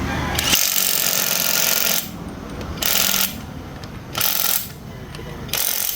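Electric impact wrench hammering in loud, close bursts of about a second each, separated by short pauses, as it works on a fastener.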